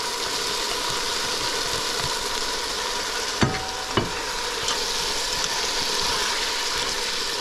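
Carrots fry in a pot for a corn stew with okra and pig tail, giving a steady close sizzle throughout, with two brief sharp knocks of stirring near the middle.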